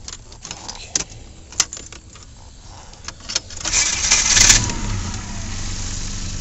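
Volvo 740 with the hood up: a few light clicks and key jingles, then the engine cranks and catches into a steady close idle.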